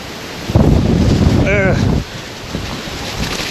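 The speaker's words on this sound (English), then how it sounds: "The wind." Strong wind buffets the microphone outdoors in a park, a loud broadband roar that swells for about a second and a half, with a brief voice cutting through before the gusts ease to a steadier background rush.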